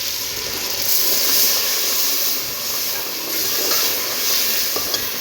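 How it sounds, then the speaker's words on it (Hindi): Boiling hot water is poured into a pan of frying potatoes for an egg-and-potato bhujiya, giving a loud, steady hiss and sizzle of steam that lasts throughout without a break. "ये अभी गर्म उबलता हुआ पानी डाल रहे हैं इसके अंदर।"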